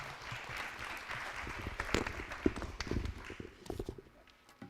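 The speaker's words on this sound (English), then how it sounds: "Clap for her." Conference audience at a performing arts event applauding a speaker, a fairly quiet spread of individual claps with uneven rhythm, thinning toward the end.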